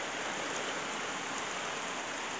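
Steady rain pours down outside on a wet day, an even, close hiss of falling drops with no breaks, heard from under a shelter.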